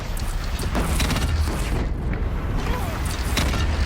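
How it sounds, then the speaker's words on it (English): Explosive gunfire in the video game Horizon Zero Dawn rumbles in dense, loud, overlapping booms and blasts, with a continuous thick low roar of battle noise throughout. "Everything I shoot at you explodes."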